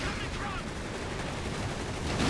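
Dense gunfire and explosions from a Company of Heroes 3 World War II battle, with tanks and infantry squads fighting, form a continuous loud clatter of shots and blasts with no pauses.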